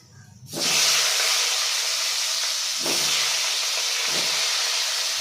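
Potatoes fry in a pan over a medium gas flame for a Bengali fish dish. A loud hissing sizzle bursts in suddenly, then holds close and steady with small surges.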